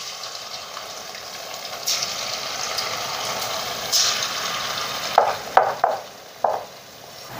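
Rice bhaji fritters frying in hot oil, a steady broad sizzle throughout with a few sharper crackles and pops near the end as the fritters are turned.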